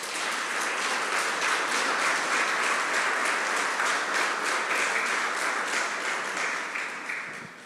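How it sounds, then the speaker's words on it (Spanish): A church congregation bursts into sustained applause during a sermon: thick, continuous clapping from many people filling the room, steady and loud before tapering off at the end. "Den un aplauso, Señor."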